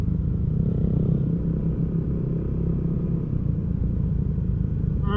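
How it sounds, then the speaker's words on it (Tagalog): A motorized tricycle's engine rumbles close by on a road descending from Real, Quezon toward Laguna, a steady low drone with clattering that holds for several seconds and carries no speech. "Ay, tricycle."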